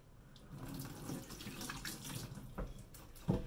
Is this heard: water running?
yes